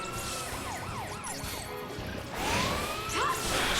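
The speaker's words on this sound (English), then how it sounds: "they basically make noise, like sirens, and it's actually rather annoying" Enemies in the Final Fantasy 13 video game give off a siren-like wail that sweeps up and down in repeated swoops over game sounds, growing louder near the end.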